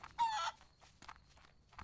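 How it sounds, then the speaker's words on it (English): Close, fairly loud chicken squawk from the farm video game Barn Finders, followed by softer scattered clucks over a quiet background. "Hi, chicken."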